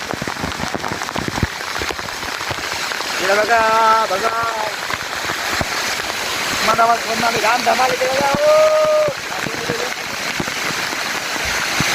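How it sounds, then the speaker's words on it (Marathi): Rushing water from a waterfall near the Mandangad-Vesvi road in Kokan makes a dense, steady roar close by, while people talk and call out over it throughout. "आता अनुपचा फोन घेऊन आपण आतमध्ये आलो आहे धबधब्यात"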